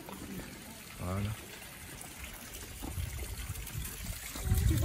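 Water trickles faintly and steadily from a stone village fountain in the mountains, under people talking nearby.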